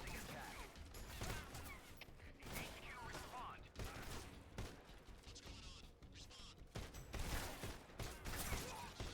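Gunfire in Metal Gear Solid Delta arrives as a dense, chaotic barrage of sharp bursts and crashes that spans the whole stretch, loud and close.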